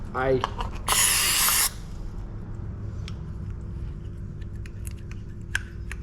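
Brake cleaner blasts from an aerosol can onto a carburettor during a carb clean: one loud, roughly second-long hissing burst near the start, followed by quieter shop ambience, with someone talking around it.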